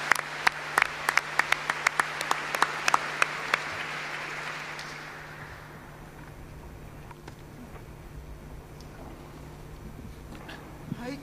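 Gala audience applause at an evening event, loud sharp individual claps standing out over a dense crowd clapping, fading after about five seconds into a quieter room murmur with a few scattered late claps.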